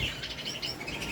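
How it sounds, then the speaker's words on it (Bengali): Pet cockatiels give a quick series of high, bright chirps and tweets close by, overlapping steadily over a soft background hiss, with no talking. "এই যে আমার ককাটেল পাখিগুলো"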